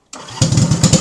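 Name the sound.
Cushman Road King engine starting up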